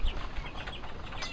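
A farm chicken gives a short burst of close clucks and chirps over a busy outdoor background.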